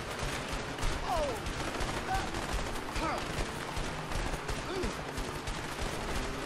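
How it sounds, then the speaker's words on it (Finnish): Dense, continuous gunfire rattles on in the video game A Way Out, a steady barrage of shots blending into a noisy wash with voices faintly underneath. "mua ammutaan selkää"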